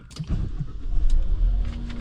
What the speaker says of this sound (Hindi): तो ये है जी गाड़ी का स्टार्टअप